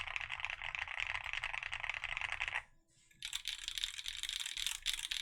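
Rapid, dense typing on a thocky mechanical keyboard, continuous clattering keystrokes close to the mic, briefly pausing near the middle before resuming with a brighter, clackier tone.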